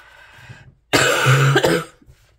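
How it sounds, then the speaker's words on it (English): One harsh, raspy cough up close, loud and abrupt, preceded by faint breathing. "that's the cough"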